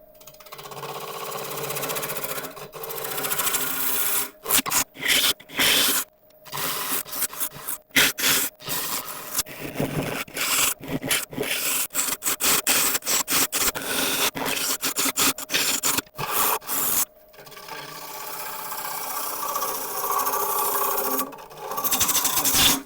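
A 45-degree gouge cutting London plane wood on a spinning lathe, a loud continuous scraping hiss broken by rapid chattering bursts and brief pauses, with the motor humming underneath.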